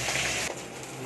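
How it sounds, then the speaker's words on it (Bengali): Small carp-type fish sizzle in hot oil in a pan, a dense steady frying hiss that briefly dips and shifts midway through the short stretch. "চলুক মাছ ভাজা। এগুলো ভেজে নেবে।"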